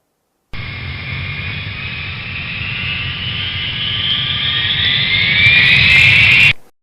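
Airplane jet engine roaring steadily for about six seconds, its whine rising in pitch and growing louder as the aircraft draws closer, with no voices over it.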